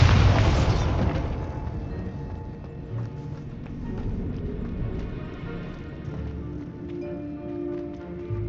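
A loud boom from the Bombarda explosion spell in the Hogwarts Legacy video game, a heavy burst at the start that decays into a low rumble under busy game ambience.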